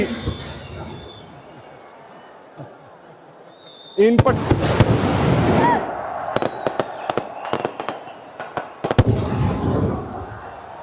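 Firecrackers crackle and bang inside a stadium in a dense, rapid burst of sharp pops over a roaring crowd, with scattered louder cracks continuing under the din.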